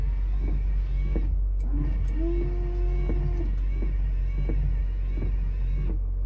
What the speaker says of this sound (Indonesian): mari kita coba wipernya